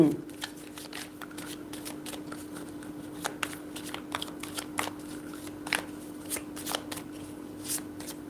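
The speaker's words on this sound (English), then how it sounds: "I'm going to pull cards for Stray Kids then" Tarot cards are shuffled for a reading in a steady run of crisp riffles and flicks, close and fairly quiet over a faint steady hum, with no talking.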